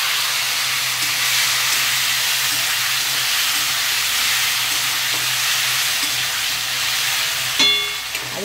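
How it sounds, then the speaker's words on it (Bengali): Potatoes fry in oil tempered with bay leaf, giving a steady, loud, close sizzle with a faint steamy hiss and a brief clatter of a utensil near the end; no talking. "আলুটা একটু ভাজতে দেব।"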